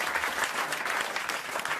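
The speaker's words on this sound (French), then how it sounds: "Qui applaudit comme ça?" A studio audience at a French radio comedy show breaks into dense, continuous applause that stays steady throughout.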